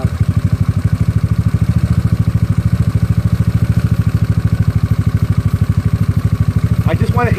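A GY6 scooter engine fitted with an OKO PWK 30mm carburetor runs steadily at idle, a loud close-up chugging pulse with an even rapid rhythm throughout, and a brief faint voice near the end.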